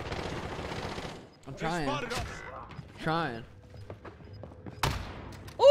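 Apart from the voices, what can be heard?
gunfire in a video game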